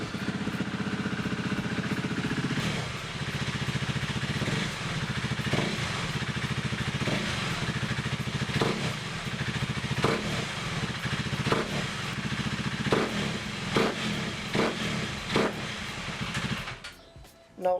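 A KTM Duke 390 motorcycle, freshly serviced with an oil change, idles indoors with a steady engine drone punctuated by regular sharp clattering pulses, close and fairly loud.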